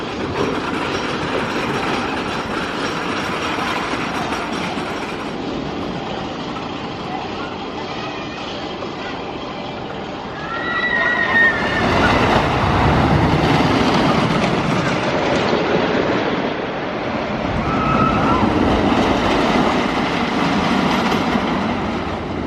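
Roller coaster train running at Oakwood Theme Park, its wheels rumbling and clattering steadily along the track, swelling louder partway through, with riders' voices faintly mixed in.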